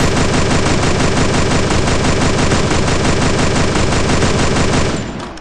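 Rapid automatic gunfire from a video game rattles in a loud, continuous burst of closely spaced shots, then fades out in the final half second.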